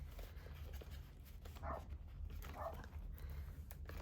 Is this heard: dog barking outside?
yes